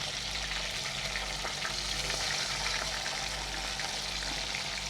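Pizza fries sizzle steadily in hot oil, a dense, even crackle that holds throughout without pause and with no talk over it.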